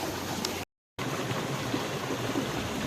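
Irrigation water flowing steadily into a paddy field on a farm, a continuous rushing, gurgling stream, close and fairly even, with a brief gap of silence.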